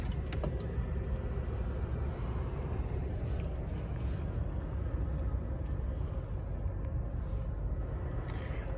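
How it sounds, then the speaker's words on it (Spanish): The Nissan V8 of a 2021 Nissan Titan idles with a steady low rumble, heard close under the open hood, with faint clicks and a brief voice in the background. "Motor V8 de Nissan."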